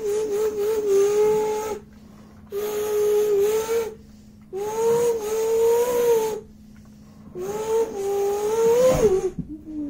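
Muscle car doing donuts at a mini car show: engine revs up and holds in four long bursts with brief drops between, loud and close, tires and exhaust roaring with no talk.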